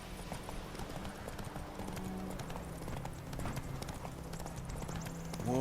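A horse gallops in The Witcher 3, its rapid, steady hoofbeats running throughout over a continuous game backdrop, growing louder near the end.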